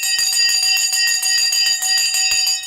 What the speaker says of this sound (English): The bell is going to go.